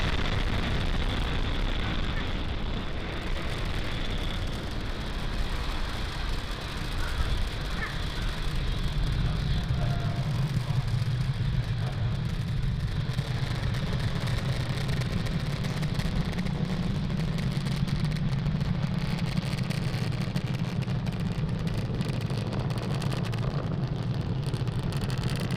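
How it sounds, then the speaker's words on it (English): A SpaceX Falcon 9 rocket lifts off from Cape Canaveral on the Transporter-3 mission, its engines producing a continuous, heavy, crackling roar that fills the whole stretch without letting up. "Falcon 9 has cleared the tower, lifted off from Cape Canaveral"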